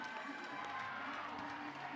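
A crowd at a college softball super regional game cheers for a few seconds after a two-strike base hit, with broad noise and a commentator talking over it.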